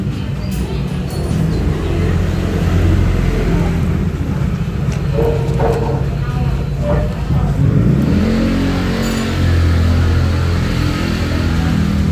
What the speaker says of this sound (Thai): ก็จะมีเสียงรถนะคะ